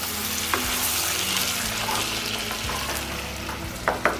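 Mutton-style food cooks slowly in a pan, giving a continuous gentle sizzle and bubbling with a few soft knocks and scrapes, close and steady.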